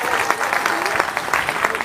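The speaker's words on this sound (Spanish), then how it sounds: "Aplauso, pues, aplauso." An audience at a pastor's religious debate breaks into applause, a steady wash of clapping lasting about two seconds, with a voice speaking over it.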